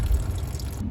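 Water drains from the engine block of a Mk1 Ford Fiesta 1.1L after the radiator hose is taken off, making a steady close-up trickling flow with no break that stops suddenly near the end.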